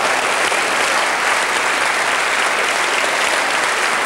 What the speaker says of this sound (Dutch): En het applaus natuurlijk